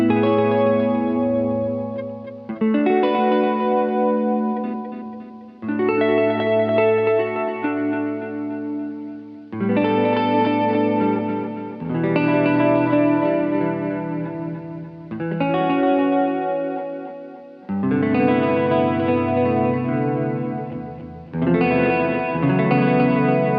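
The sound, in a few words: guitar through H9 beauty echo preset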